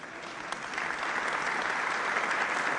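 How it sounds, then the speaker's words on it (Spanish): Applause from an audience at a Chilean evangelical and Protestant churches' national day event, a steady broadband clapping that swells after the first second and holds on without any voices. "un aplauso también para ellos"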